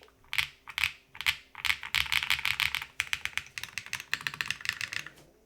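Steady typing on a soft-sounding Class1800 custom mechanical keyboard with silicone dampening, close and clear, bursts of key clacks speeding into fast rhythmic runs without any talk.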